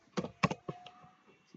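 A handful of crisp computer keyboard keystrokes, close and irregular, with short pauses between taps and no talking.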